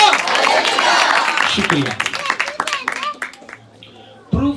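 A church congregation applauds loudly during a sermon, with dense clapping at first that thins into scattered claps and then fades, before someone briefly speaks.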